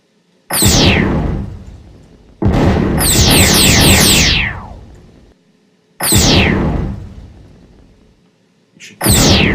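Loud synthetic laser-like zaps from an enemy UFO firing in a simple Game Maker shooter, each burst a falling whistle sweep with a crackling tail, repeating in four volleys separated by short silences.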